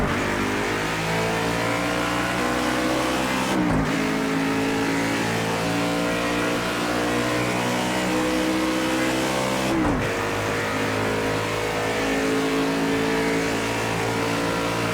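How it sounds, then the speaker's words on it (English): A Chevrolet race car engine in the racing game Project Cars 2 drones loudly and steadily throughout, revving up with two brief gear-shift dips, the rising harmonics of acceleration continuous and close. "impressions of driving the Chevrolet for Project Cars 2"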